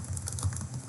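Rapid keystrokes on a computer keyboard, a quick irregular run of soft clicks and taps heard up close with no voices.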